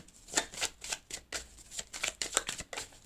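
Tarot cards shuffled by hand in quick, repeated riffling bursts, close and crisp, with a few louder slaps as cards are drawn and set down.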